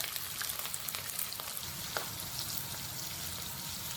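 Hotpot seasoning base fries in oil in a wok, a steady, dense sizzle with soft crackles running throughout, close by and with no talk.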